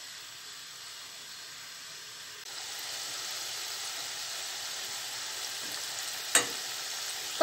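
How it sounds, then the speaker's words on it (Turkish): Onions sautéing in a spoonful of vegetable oil on a stovetop, a steady soft sizzle that swells a little partway through, with a brief clink of a utensil near the end. "Bakın gördüğünüz gibi soğanlarım burada kavrulurken patateslerim de kızardı."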